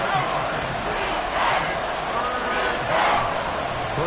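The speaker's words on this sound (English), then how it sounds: "This crowd making it hard to hear." A roaring stadium crowd at an American football game swells in two loud waves of cheering, with a broadcast announcer's voice speaking over the noise.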